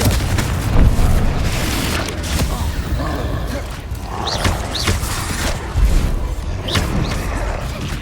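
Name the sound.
Confringo spell blast explosion in video game Hogwarts Legacy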